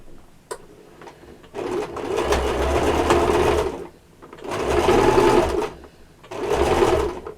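A sewing machine stitches a pocket onto a small apron in three loud, close bursts of fast, steady whirring, separated by short pauses and a small click near the start.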